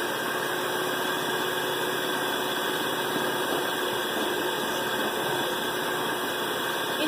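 An electric mixer hums steadily and continuously, beating egg for a northeastern Brazilian tapioca cake batter, a constant whirring drone with no pauses.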